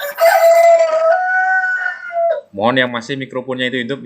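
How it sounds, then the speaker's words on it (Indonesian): Rooster crowing close and loud, one long drawn-out cock-a-doodle-doo call, followed by a person speaking during an online class session. "ayam berkokok"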